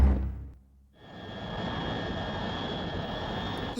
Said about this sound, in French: On dirait qu'un moteur s'est arrêté.